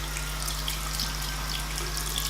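A kitchen tap runs in a steady, continuous stream while makeup brushes are rinsed under it, close and even throughout.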